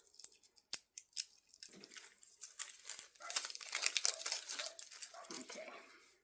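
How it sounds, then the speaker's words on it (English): Tape for hook and latch material is handled close up on an EZ-Stitch frame, producing soft crinkling, rustling and occasional sharp ticks that grow denser toward the middle. "This is the tape for the material part."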